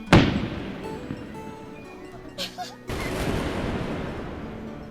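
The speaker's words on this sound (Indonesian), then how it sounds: "mereka bertiga pun lalu menikmati momen kembang api itu" Fireworks in an anime scene open with a sharp, loud bang, followed by quieter crackling pops and a second swell of distant rumbling bursts.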